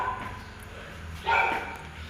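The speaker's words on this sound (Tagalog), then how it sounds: "Mga tahol, ah." A single dog bark rings out at a moderate distance, with a quiet background before and after.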